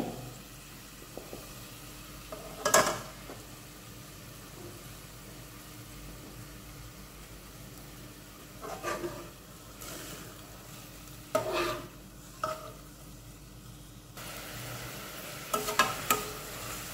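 Doi chicken sautéing in a pan: a low, continuous sizzle broken by a few sharper scrapes and stirs at intervals, close by and fairly quiet, with no talking.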